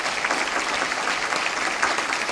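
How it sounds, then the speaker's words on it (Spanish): Steady, loud applause from a large audience at a municipal DIF activities report ceremony in San Miguel de Allende, dense and sustained for the whole short stretch with no speech. "Fuerte aplauso también."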